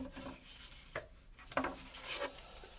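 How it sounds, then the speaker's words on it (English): Painted wood sanded by hand with 100 grit sandpaper, heard as a quiet, uneven rubbing and rasping with a few stronger strokes, close but faint, and no talking. "Let's get our sandpaper here, and we'll just start taking some of this paint off a little bit."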